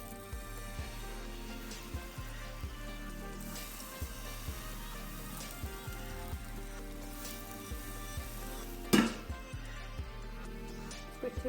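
Spring roll wrapper batter hitting hot oil in a pan over low heat, giving a soft, steady sizzle with light crackles and one brief louder clatter partway through.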